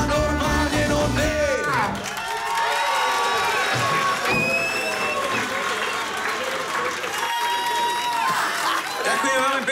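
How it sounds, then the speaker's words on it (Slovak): A talk show studio audience applauds steadily and loudly for the whole stretch, with voices and a bright musical tone layered over the dense clapping. "Ďakujem veľmi pekne, priatelia, za váš potlesk"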